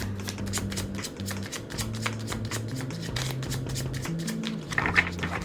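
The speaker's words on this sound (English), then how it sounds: "I usually don't have to shuffle for this long." Tarot cards are shuffled close up in a steady stream of soft riffling flicks and taps that run for several seconds, quiet and continuous.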